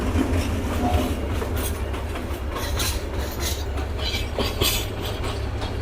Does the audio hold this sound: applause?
no